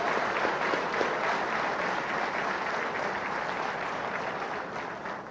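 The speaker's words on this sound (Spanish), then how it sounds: "Eso merece un aplauso." Large audience at a Venezuelan presidential broadcast applauds a female navy captain, a steady, dense roar of clapping that holds evenly for over five seconds and eases slightly at the end, with no voices over it.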